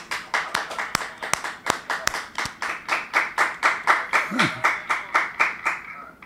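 Rhythmic unison clapping, around twenty sharp evenly spaced claps in a steady beat, fairly close and loud, with a brief voice sound partway through.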